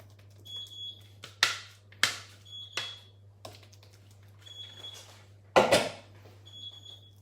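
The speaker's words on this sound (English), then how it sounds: "Alarm is up." A high-pitched electronic beeping tone repeats in short bursts amid sharp clattering knocks, fairly quiet, with no talking.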